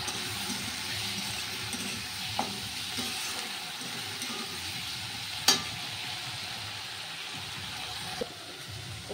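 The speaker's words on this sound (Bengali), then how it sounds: "ভোলা মাছ রান্না করার জন্য পেঁয়াজ ফুলটা ভেজে নিচ্ছি" Onions with black cumin seeds fry in oil for a fish dish, giving a steady moderate sizzle with a few light clinks and stirring taps.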